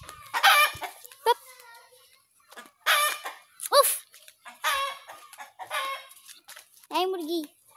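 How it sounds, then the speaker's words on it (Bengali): Chickens cluck and a rooster crows nearby in a rural Bangladeshi village, loud repeated calls in bursts separated by short pauses. "এই মুরগি।"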